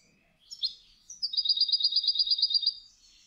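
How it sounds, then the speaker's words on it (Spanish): A goldfinch sings a short phrase: a few thin chirps, then a fast run of bright, evenly spaced trilled notes with a jingling, sleigh-bell quality, close and clear against silence. "el pájaro le da el tono de un cascabel"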